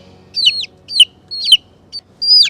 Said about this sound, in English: So this is one of our Buff Orpingtons, and this one's a little over 2 weeks